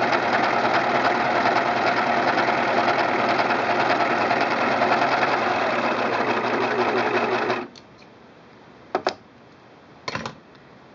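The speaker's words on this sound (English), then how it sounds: "Now I'm all set up to do a test stitch." A Singer Pro Finish serger runs a test stitch in a steady, loud, continuous whir for about seven seconds, then stops, followed by a few brief clicks and handling taps.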